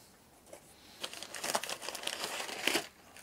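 Paper packing crinkles and rustles while a Dynon D3 unit is unboxed, with a few bursts of handling noise over about three seconds, fairly close and moderately loud, no talking.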